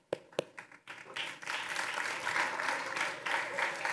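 A church congregation breaks into applause, starting with a few scattered claps that quickly build into steady, full clapping across the room.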